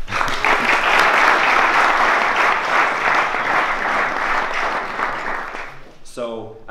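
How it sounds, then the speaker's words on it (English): Audience applause and cheering at an event introducing a college soccer player, a loud sustained burst of clapping that gradually fades, with a voice speaking briefly at the end. "so let's hear it for Matt"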